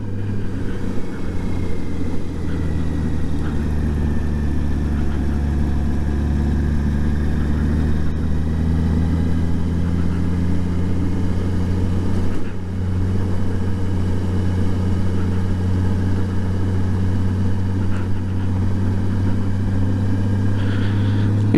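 A motorcycle rides along the winding Needles Highway, its engine giving a loud, continuous drone whose pitch slowly rises and falls with the throttle through turns, accompanied by steady wind rush for the whole long stretch.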